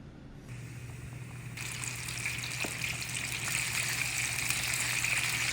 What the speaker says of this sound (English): Once your oil gets to temp, drop them in, but make sure you give them space.